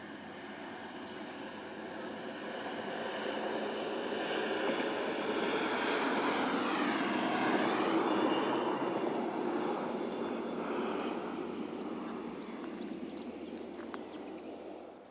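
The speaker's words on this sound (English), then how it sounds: "We begin at Passirano with this ATR 115 unit heading south towards Brescia." An ATR 115 diesel train unit passes near Passirano, heading south towards Brescia, with a steady engine drone swelling to a peak midway and then fading gradually as it moves away.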